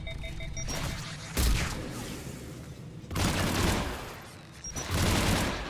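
Weapon fire in Mass Effect during a quarian and geth conflict, bursts of loud rapid shots and heavy impacts separated by brief quieter gaps, with electronic beeps at times.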